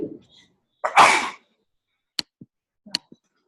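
A single sharp sneeze bursts out close by, followed by a few faint clicks and soft ticks in otherwise quiet surroundings.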